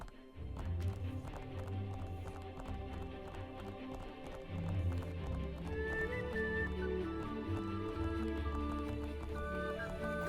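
Mountain goats' hooves clatter up a steep slope in the Split Fiction video game, a quick, steady clip-clop of hoofbeats layered over a soft musical score, fairly quiet and continuous.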